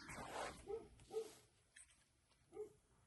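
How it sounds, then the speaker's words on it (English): A dog barks a few times at a distance, muffled short barks spaced irregularly against a quiet background. "Sorry about that loud dog out there."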